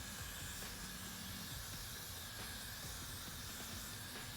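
A hairdryer blasts cool air over hairspray on a hairline, a steady broadband rushing hiss that stays loud and unbroken throughout.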